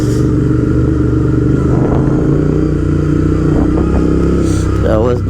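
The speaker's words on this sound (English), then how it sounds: "My exhaust note is just echoing in these roads" A motorcycle exhaust drones steadily and loudly on roads on a winter morning, with a rider talking over the continuous engine note.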